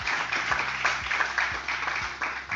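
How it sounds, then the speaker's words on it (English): Audience applauding award-winning university students, a moderate round of clapping with individual claps audible at an uneven rhythm, low thumps showing through, no talk over it. "Please give them a round of applause."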